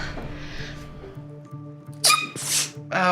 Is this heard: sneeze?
yes